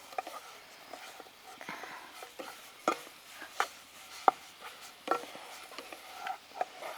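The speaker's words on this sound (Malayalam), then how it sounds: "നന്നായിട്ട് ഇളക്കി പഞ്ചസാരയൊക്കെ ഒന്ന് അലിഞ്ഞ് വരട്ടെ കേട്ടോ" A spoon stirs a grated carrot, coconut and sugar ladoo mixture in a pan, giving soft, irregular scrapes and taps close by with quiet pauses between strokes and no talking.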